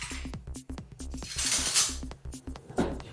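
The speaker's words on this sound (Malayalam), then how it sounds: "ഞാനിവിടെ തവി വെച്ച് ഇളക്കുകയാണ്" A ladle stirring mutton liver mixture in a bowl, giving repeated soft wet scrapes and clinks in an uneven rhythm, close and alone.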